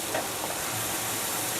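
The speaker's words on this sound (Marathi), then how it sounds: "छान असा त्याला आता भाजून घेऊया" A methi paratha roasts on a hot pan, giving a steady, soft sizzle and hiss that continues evenly throughout at low volume.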